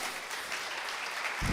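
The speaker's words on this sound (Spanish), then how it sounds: "Dele un fuerte aplauso al Señor ahí donde está" A church congregation claps in praise, a dense, even wash of applause throughout with a brief low thump near the end.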